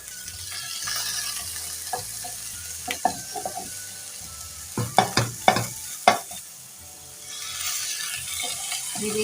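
Fish fries in a dry pan without oil over a low flame, a soft continuous sizzle broken by several sharp clinks and scrapes in the middle, close by with no voices.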